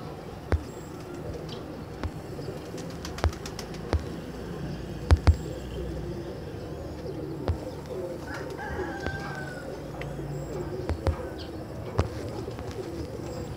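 Soft, repeated cooing of young pigeons, close up, with scattered sharp clicks and taps over a low background murmur.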